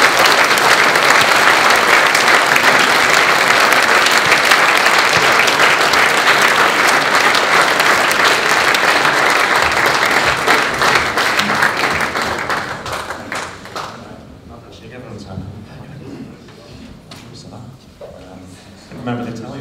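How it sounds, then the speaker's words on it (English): Audience applause at a 2016 RBS Six Nations rugby press conference, loud sustained clapping from a room of people that fades out after about thirteen seconds into quieter room noise. "A round of applause"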